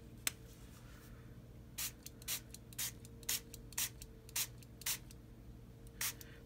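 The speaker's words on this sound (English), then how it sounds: "I'm going to spray it again." Water sprayed from a spray bottle onto inked paper: a series of short, soft hissing bursts in an uneven rhythm, close and fairly quiet over a low background hum.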